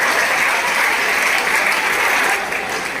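Dense, steady applause from a crowd of students in a session, loud and continuous for a few seconds with no break, fading slightly at the end.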